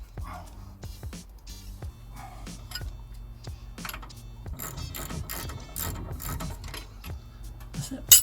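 A ratchet wrench clicks in quick runs while brake caliper bolts on a Range Rover are snugged up, giving a close, crisp, irregular ratcheting under low background hum.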